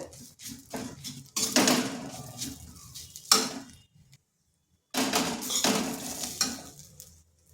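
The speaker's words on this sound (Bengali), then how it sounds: "তিন চামচ বেসন ভালো করে বেসনটা মিশিয়ে নিচ্ছি" Gram flour (besan) being stirred into bitter gourd in a pan over low heat, with utensil scrapes and clinks against the pan in bursts, broken by a short quiet pause; no one speaks.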